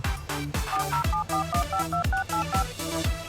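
A telephone being dialed: a quick series of paired touch-tone beeps over rhythmic music, moderately quiet and without speech.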